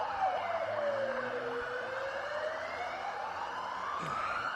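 An ambulance siren wails and sweeps in rising and falling tones as it passes outside a men's pairs bowls grand final, moderately loud and steady over a low background hum.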